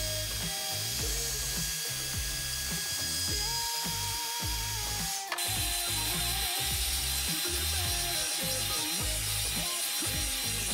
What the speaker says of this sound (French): on va utiliser notre décapeur thermique pour essayer comme ça d'aller chauffer un petit peu la partie en noir